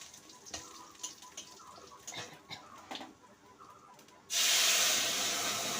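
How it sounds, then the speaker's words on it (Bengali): Mung dal with papaya, potato and ridge gourd is poured into a hot tempering of panch phoron, bay leaf, dried chilli and ginger, setting off a sudden loud, steady sizzle after a few quieter kitchen clatters. "ফোড়নটা হয়ে এলে এবার ডালটা ঢেলে দেব।"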